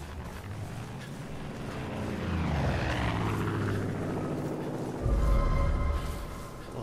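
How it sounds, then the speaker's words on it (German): A helicopter in Far Cry 5 flies overhead, its rotor thrum and engine roar swelling and then fading, loud and continuous, with no talk. "sieht uns jetzt hier schon wieder so ein dummer Hubschrauber, oder was?"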